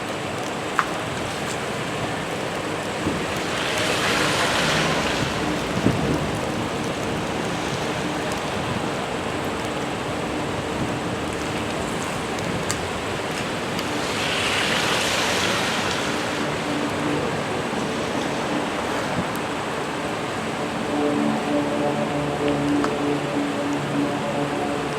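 Steady outdoor rain in chilly Orlando, Florida, a loud continuous hiss that swells twice and then settles, with no voices.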